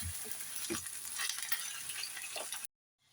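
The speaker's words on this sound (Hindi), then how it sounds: "और चिकन को भी अच्छी तरह से इसके अंदर मिक्स कर देते हैं ताकि इसका कलर भी चेंज हो जाए" Chicken frying with spices in a pan for korma, a steady close sizzle with a few scraping stirs, cutting off abruptly near the end.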